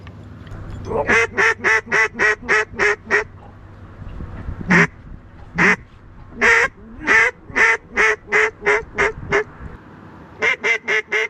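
Ducks call loudly in rapid runs of evenly spaced honking bursts while out hunting, pausing and then resuming, close and clear with a low hum in the background.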